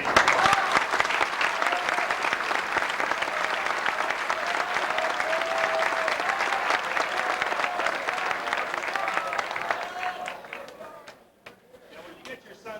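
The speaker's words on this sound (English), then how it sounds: "parents, I think you owe the city councilors a round of applause and a heartfelt thank you" Parents in a hall applaud city councilors at a Boys State gathering at a college, a steady, full round of clapping lasting about ten seconds before fading to scattered claps, with faint murmuring voices underneath.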